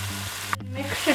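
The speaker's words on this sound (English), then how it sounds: "The oil is heated, so for the first thing we'll be adding the onion, then the carrots, and mix it" Onion and carrots sizzle in hot oil in a pan, a steady, close frying hiss that lasts for a short moment under a faint background hum.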